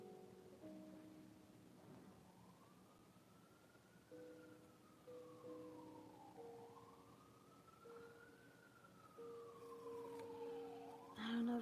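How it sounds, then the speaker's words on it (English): An ambulance siren wails far off in slow rising and falling sweeps, faint behind a quiet indoor room with a low steady hum. "the ambulance is going again."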